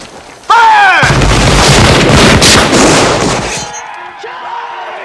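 Battlefield in a Civil War film, a loud sudden volley of artillery and musket fire erupting after a brief shout, roaring and rumbling for a few seconds before fading into quieter trailing sounds.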